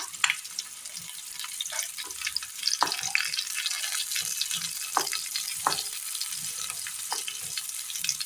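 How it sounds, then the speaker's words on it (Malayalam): Fish pieces sizzle and crackle steadily in hot oil, a dense hiss with scattered sharp pops and no voices. "മീൻ കഷ്ണങ്ങൾ ഇട്ട് കൊടുക്കുക ഇത് നന്നായി ഒന്ന് വറുത്തെടുക്കുക"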